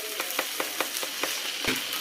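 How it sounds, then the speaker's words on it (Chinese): Corn flour buns pan-frying on low heat in a lidded pan, giving a soft steady sizzle with a series of small crackling pops at a fairly regular rhythm, close and quiet. "开小火给它煎，把底部煎至金黄"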